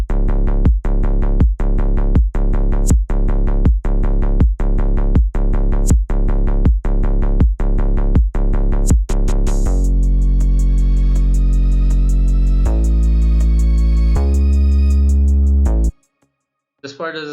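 Hip-hop beat section: a loud, steady looped pattern of punchy drum hits with heavy bass for about ten seconds, then sustained layered synth and bass chords that cut off near the end.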